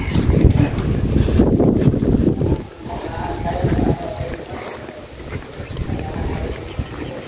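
Strong wind roars and gusts against the microphone outdoors at a house, loud rumbling buffeting that eases off partway through and then keeps blowing more gently.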